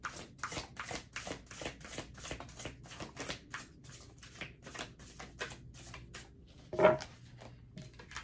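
Large tarot cards are shuffled and handled in quick, crisp riffling bursts, soft and close, with a brief louder tap or slap near the end and no talking.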